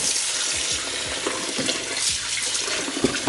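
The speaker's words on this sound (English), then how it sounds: "I'll fill up this metal bowl" Cold tap water runs steadily into a metal bowl, a continuous bright splashing stream with small clinks and gurgles, close and fairly loud, with no voices.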